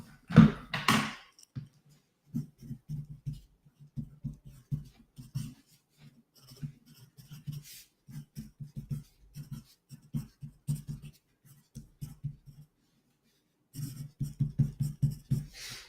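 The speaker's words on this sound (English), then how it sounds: "I'll write it down on a piece of paper." A pen writes on a piece of paper close by, making short scratchy strokes in irregular bursts with brief pauses between them and a longer gap near the end.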